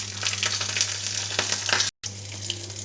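Green chillies frying in a tempering of urad dal, cumin and mustard seeds for semiya lemon pulihora, a loud, dense sizzle with popping crackles close up and a brief cut of silence near the end.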